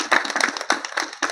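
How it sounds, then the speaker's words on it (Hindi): An audience clapping at a talk on potato farming, several loud claps in an uneven rhythm, close and clear with no voices over them. "हम लोग आप सभी के लिए ताली बजाना चाहेंगे"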